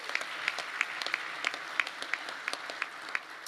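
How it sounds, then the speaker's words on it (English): An audience applauds at a political event at the Doral resort, steady clapping from a crowd heard at a distance, fairly faint and continuous with sharp individual claps standing out. "How about a round of applause for"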